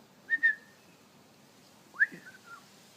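A pet galah cockatoo gives two short whistled calls, a quick rising pair followed after a pause by a sliding, warbling whistle, close and clear in a quiet room.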